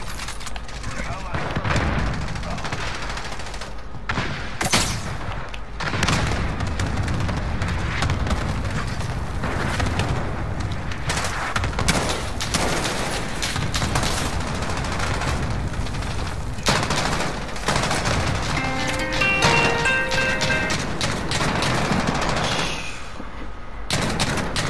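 LMG machine gun fire in a video game rattles on in long, sustained bursts with booming impacts scattered through, nearly continuous and loud, with voices talking underneath.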